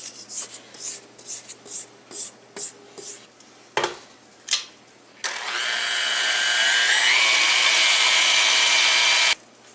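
An electric mixer starts up on low and keeps running through pizza dough, a loud steady motor whine that rises slightly in speed, after several short scraping and knocking sounds.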